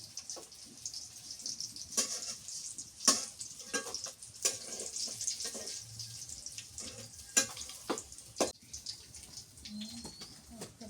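Hilsa fish frying in a pan, a steady mid-level sizzle with scattered sharp crackles and clinks from utensils, ongoing throughout with a faint running-water sound at times.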